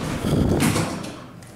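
An elevator door at Bloomingdale's in the Walt Whitman Shops, a former Burlington unit of unknown make, slides shut close by with a single rumbling glide and a soft thud at the end.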